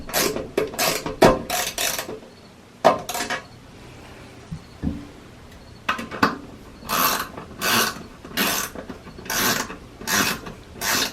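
A wrench tightens the bolts at the base of a toilet while a wax ring is replaced, giving bursts of close metallic ratcheting clicks separated by quiet pauses, with no talking.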